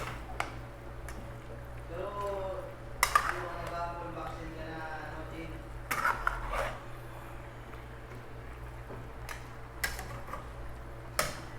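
Chicken adobo being stirred in a pan, heard as scattered clinks and scrapes of a utensil against the pan with a low steady hum underneath, while a person talks.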